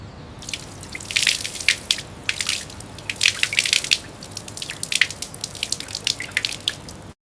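Running tap water for wudu ablution washing splashes and drips in irregular bursts, fairly close and steady over several seconds with no talking.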